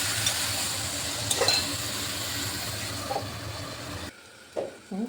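Cauliflower stalks and potato with turmeric frying in a pan, a dense sizzle with stirring scrapes that cuts off abruptly, followed by a couple of brief clinks of utensils.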